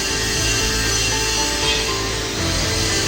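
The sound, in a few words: lathe cutting a mounted drum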